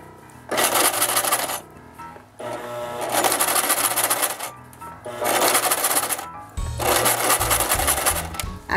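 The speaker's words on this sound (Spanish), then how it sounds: "Hacemos una costura en curva." A sewing machine stitches a curved seam on a fabric ice-cream-cone pincushion, running in four close, steady whirring bursts separated by short pauses, with no talking.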